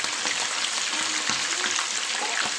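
Chicken liver for liver shawarma frying in a hot pan, a dense steady sizzle with faint crackles and small clinks, close and even throughout, no voices.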